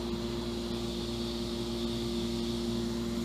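A vacuum pump hums continuously on a resin casting setup, producing a steady, even drone with a low tonal whine that holds unchanged throughout.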